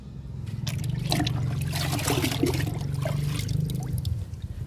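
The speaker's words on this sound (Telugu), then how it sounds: "లిక్విడ్ ఇస్తున్నాను అరటి మొక్కకి" Liquid fertilizer is poured onto a young banana plant, producing a soft splashing trickle and gurgle over a low steady hum, fairly quiet and continuous for several seconds.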